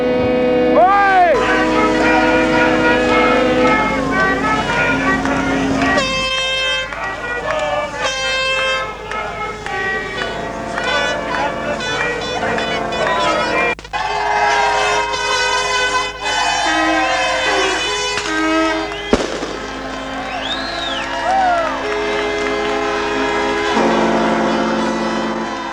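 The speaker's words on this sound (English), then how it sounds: "Horns are blowing. People are clapping and screaming." Boat horns toot again and again at the finish of the 1980 America's Cup yacht race, long, loud, overlapping blasts that carry across the water, with people talking nearby throughout.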